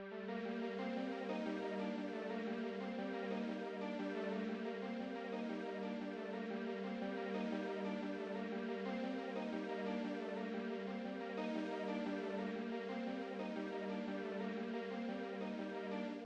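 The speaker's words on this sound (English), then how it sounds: "I had this Noah Mayer Clems Synth and I just copied the guitar pattern and pitched it down" A Noah Mayer Clems synth plays a guitar-style pattern pitched down, a dense continuous layer of plucked, shimmering tones that rolls on evenly at moderate loudness throughout with no talking.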